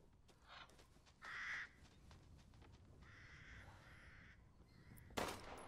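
Crow in Resident Evil Village caws several times at moderate distance over a low ambient hiss, followed by a sharp bang near the end.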